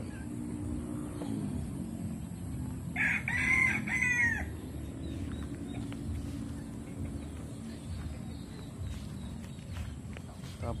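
A Rhode Island rooster crows once, fairly close, over a busy outdoor background of rustling, shuffling footsteps and faint clucking.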